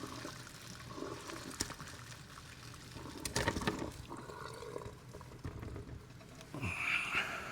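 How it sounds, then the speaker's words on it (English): Water is dumped through a colander in a kitchen while preparing beef stew, an uneven trickling and splashing pour with a few louder gushes over several seconds. "sort of dump the water through."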